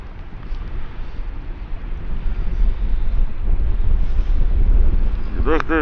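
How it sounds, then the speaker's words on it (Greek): Strong south-east wind blowing over open sea near Glyfada, a loud continuous roar and buffeting against the microphone with a low wash of water beneath it, steady throughout. "λέτε νοτιοανατολικούς ανέμους."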